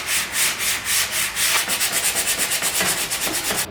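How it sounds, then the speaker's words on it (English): Sandpaper scrubs back and forth over the second coat of filler on a repaired, kicked-in wooden door jamb, a steady run of close, rhythmic rasping strokes that quicken toward the end, with no talk. "I'll quickly sand that one there down and just make sure that we haven't missed anything"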